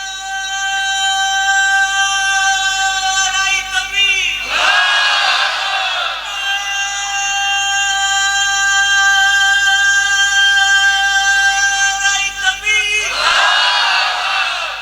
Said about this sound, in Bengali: তাকবীর মারো, দাও নারে তাকবীর।